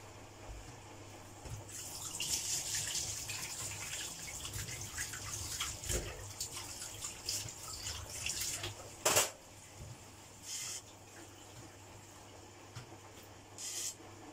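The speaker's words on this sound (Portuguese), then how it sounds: "Agora, eu vou passar as mãos para a água e vou colocar o peixe ali também para passar para a água." Hands and a fresh fish rinsed under a running kitchen tap, a steady close stream of water with occasional splashes and clinks for about fourteen seconds, fairly soft, no speech.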